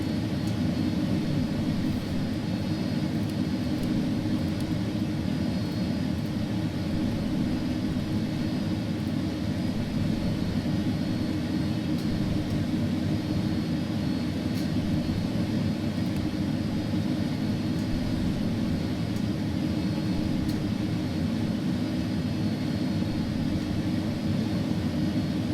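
An Airbus A300-600F jet rolling for takeoff in the X-Plane 12 flight simulator, giving a steady, fairly faint broadband engine roar and whir that holds level for the whole stretch without speech.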